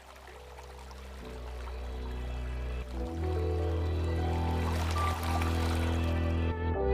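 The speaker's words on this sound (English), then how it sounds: "add a nice calm river sound" Calm river water flows steadily in a 3D game scene, a continuous close wash with a faint bubbling trickle and no voices.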